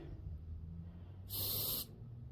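A spray paint can hisses out white paint in one steady, loud burst lasting about half a second, starting and stopping abruptly over a quiet room background.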